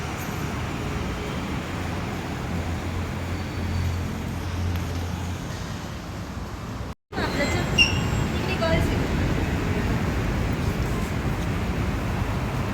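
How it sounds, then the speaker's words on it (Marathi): Steady ambience at Nagasandra metro station in Bangalore: a dense wash of traffic and crowd babble with a low rumbling engine, briefly cutting out, then resuming with faint clinks and distant voices. "आम्ही बँगलोरच्या मेट्रोला आलेलो आहे मेट्रो मेट्रो स्टेशनला"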